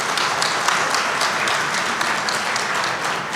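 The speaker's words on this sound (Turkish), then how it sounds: "huzurlarınızda onları alkışlıyorum değerli kardeşlerim" A crowd at a railway launch ceremony for the Touristic Eastern Express train applauds steadily, dense continuous clapping filling the space with no pauses.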